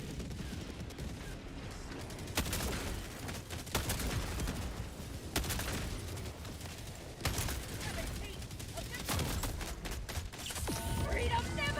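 A strafing run in a video game brings repeated bursts of rapid gunfire, loud clustered volleys recurring every couple of seconds over a dense rumbling battle din, with talk in between.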